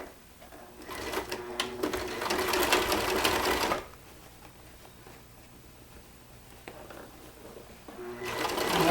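A sewing machine stitches a reversible purse about half an inch from the edge: a loud, steady mechanical run, a pause with only faint quiet motor and handling sounds, then the stitching starts up again near the end.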